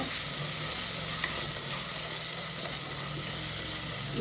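Eggplant sizzles steadily in hot oil in a clay pot, a constant close crackling hiss with faint scraping of stirring, and no one speaking.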